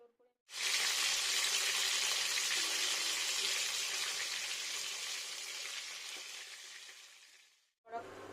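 Mrigal fish frying in hot oil, a loud steady sizzle that starts abruptly, holds for about seven seconds while slowly easing, then cuts off before resuming briefly.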